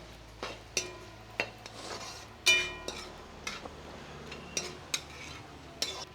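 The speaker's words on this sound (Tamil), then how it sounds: "இதை நல்லா நம்ம மிக்ஸ் பண்ணி விட்டுடலாம் ஒரு வாட்டி" Chicken is mixed with masala and salt in a pot for chicken kulambu. A spoon makes a series of irregular, quiet scrapes and clinks against the metal, with short pauses between strokes.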